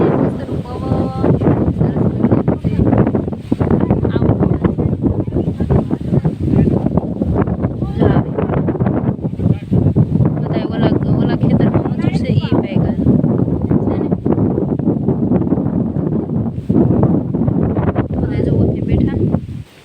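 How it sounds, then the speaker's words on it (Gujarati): Strong outdoor wind roars and buffets loudly and continuously during a rainstorm where a family sits sheltering under tarpaulins, with people talking throughout. "પવન એવો છે ઉપડ્યો, વરસાદ એવો આવે છે"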